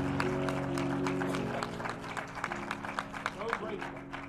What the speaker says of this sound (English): Give him a big hand clap of praise like he deserves.